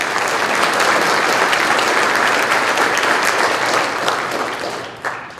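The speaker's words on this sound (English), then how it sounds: "So will you give yourselves a round of applause, please?" An audience at a police academy graduation ceremony applauds. Dense, steady clapping fills the room for several seconds, then tapers off near the end.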